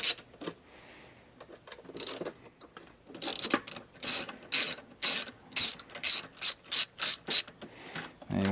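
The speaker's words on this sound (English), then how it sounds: "So we're going to start taking these bolts off." Ratchet wrench loosening bolts on a Harley-Davidson fuel pump, giving a run of sharp, rapid clicking bursts that grow regular and evenly spaced toward the end, close and fairly loud with no talk.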